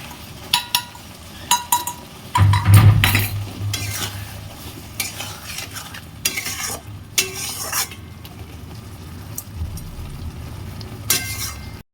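Spice paste with salt, sugar, turmeric and Kashmiri chilli frying in a pan, a loud close sizzle under repeated scraping and clinking of a spoon stirring against the metal, with no voices.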